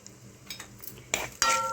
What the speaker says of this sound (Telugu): ఆవాలు, జీలకర్ర, మెంతులు, మినపప్పు, శనగపప్పు ఇవి వేయించుకుంటున్నాను.